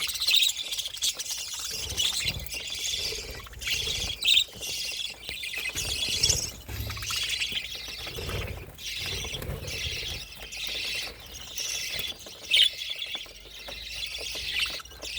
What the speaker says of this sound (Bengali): আজকে পাখিগুলোকে খাবার দিয়েছি সকাল সকাল